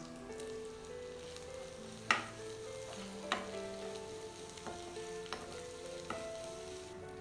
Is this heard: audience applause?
no